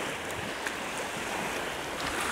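Ocean surf rolling onto a shoreline, a steady broadband wash of breaking waves with wind noise on the microphone, continuous and fairly even with no voices.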